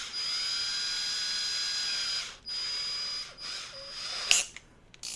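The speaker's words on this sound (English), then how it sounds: "put them in a drill" A hand drill spins brake caliper pins to clean them, giving a steady high-pitched whine for about two seconds, then shorter bursts with brief gaps and a sharp clack near the end.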